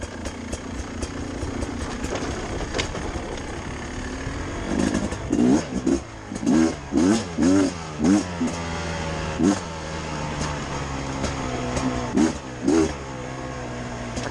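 A 2021 Beta 300 RR dirt bike engine runs continuously while riding a muddy trail loop, with a steady drone broken by a series of sharp rhythmic revs and throttle blips through the middle and end.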